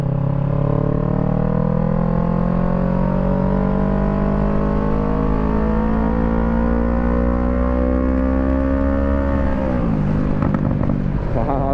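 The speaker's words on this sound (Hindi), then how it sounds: "और बाइक पटाखे क्या फोड़ रही है यार" A Kawasaki Z650 motorcycle engine revs loudly and close, its pitch climbing steadily as the throttle is held. Near the end it drops off sharply into crackling exhaust pops.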